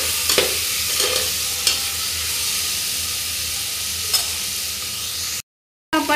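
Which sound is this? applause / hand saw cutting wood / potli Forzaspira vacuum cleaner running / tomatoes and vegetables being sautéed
tomatoes and vegetables being sautéed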